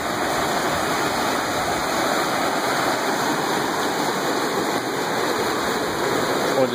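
The Conestoga River rushes over rocks in the Cohutta Wilderness, a loud, steady, close-up roar of tumbling water that never lets up, with no voices heard.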